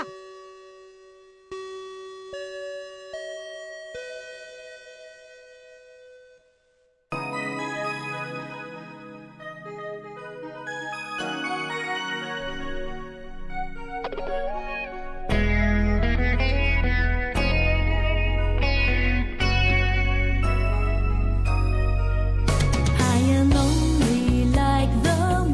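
A bell chime closing an anime club podcast episode, ringing out with echo and reverb amid layered musical tones that build from a sparse tinkling opening into a loud, dense finish, with no talking.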